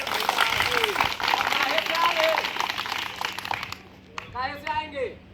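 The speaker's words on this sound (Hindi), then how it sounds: "बच्चों जोरदार ताली बजाओ।" Schoolchildren at an outdoor street play clap loudly together, a dense, sustained burst of applause mixed with crowd voices that fades into talking at the end.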